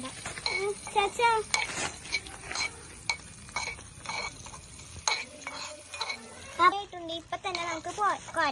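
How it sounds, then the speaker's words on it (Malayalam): Pappadam frying in boiling coconut oil in a miniature toy cooking setup, with light sizzling mixed with clinks and stirring scrapes from utensils while people talk over it. "എണ്ണ തിളച്ചിട്ടുണ്ട്. ഇനി നമുക്ക് പപ്പടം ഇടാം."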